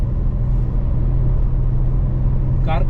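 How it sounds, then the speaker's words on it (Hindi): Heavy road traffic with many cars and some trucks rumbles steadily and close, a continuous low drone with no voices, and a brief higher hiss near the end. "बहुत ट्रैफिक है।"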